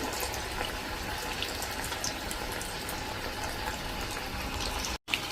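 Potatoes frying in peanut oil, a steady dense bubbling hiss that barely changes over a few seconds, close up with no talk.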